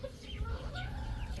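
Small backyard chickens, including a young rooster, cluck softly in short repeated calls close by, with a faint low background hum and a voice now and then.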